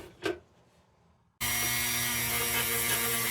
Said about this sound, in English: So I'm going to hit that with a Dremel a little bit, try to expose those tabs